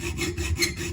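A handsaw rasps through wood in quick, short back-and-forth strokes, close and steady, with no voices.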